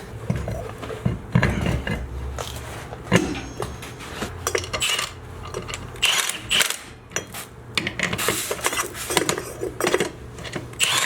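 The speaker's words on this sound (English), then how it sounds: "Hear those bushings squeaking." Leaf spring shackle bushings on a vehicle, newly fitted with TeraFlex HD shackles and jacked up, squeak and clatter continuously with metallic creaks and knocks, loud and close.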